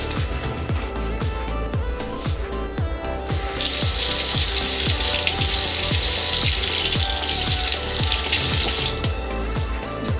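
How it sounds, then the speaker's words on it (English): Water runs steadily from a kitchen tap while hands are wetted during hummus making, a continuous splashing stream that grows brighter and louder midway as the flow hits the hands. "Wet my hands with a little bit of water."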